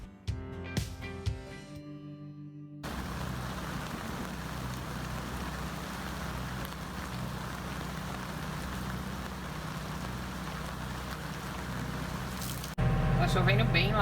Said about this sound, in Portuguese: Tá chovendo bem lá fora.